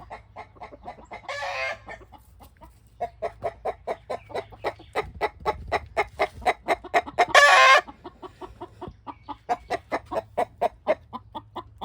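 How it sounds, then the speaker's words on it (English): A rapid run of rhythmic clucking from nearby fowl fills the clip, broken by two harsh, loud squawking bursts, one early and one near the middle. "It's mainly the roosters that are singing."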